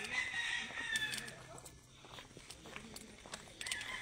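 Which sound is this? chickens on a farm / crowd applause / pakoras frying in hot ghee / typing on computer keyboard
chickens on a farm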